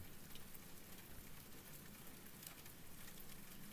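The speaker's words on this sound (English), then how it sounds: "Hello, Rain." Rain falls outside as a faint, continuous hiss with light patter from drops striking a surface, steady throughout with no voices.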